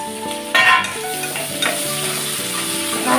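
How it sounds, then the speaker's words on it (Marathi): Two large onions frying in hot oil and being stirred for dhaba-style akkha masoor, a loud close sizzle with spoon scrapes and clinks against the pan. "लाल होईपर्यंत आपल्याला ते तेलामध्ये फ्राय करायचं"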